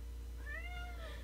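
One drawn-out, wavering meow from a cat pestering for treats, close and moderately loud against a quiet background with a low constant hum and no voices.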